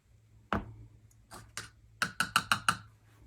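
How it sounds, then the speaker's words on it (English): A spoon stirs embossing powder and mica together in a container. It gives a run of sharp, close taps and clicks: a few scattered ones, then a quicker rhythmic burst of about five near the end, with no voices. "Just mix this all around."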